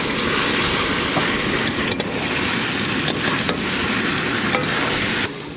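Chicken curry with fried potatoes sizzles hard in a pan, a dense, loud crackle broken by scraping stirs and clinks of the spoon, easing slightly at the end.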